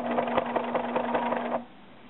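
Sewing machine stitching fabric for a wrap skirt: a fast, even rhythmic whirring with a steady hum, close up, running for about a second and a half before stopping abruptly.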